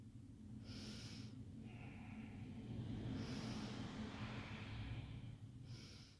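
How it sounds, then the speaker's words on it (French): Slow, deliberate breaths drawn in and out through the nose during a standing yoga posture, soft airy inhales and exhales repeating quietly in a calm room without talk. "Et je respire en conscience."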